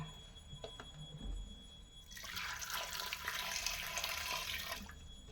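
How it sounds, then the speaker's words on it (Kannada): Water poured from a tap or jug into a pot of chopped potato, knol-khol and carrot for vegetable kurma, a steady splashing pour from about two seconds to near the end, close and fairly loud, no talking. "ಇವಾಗ ಇದಕ್ಕೆ ನೀರು ಹಾಕ್ಕೊಳ್ಳೋಣ"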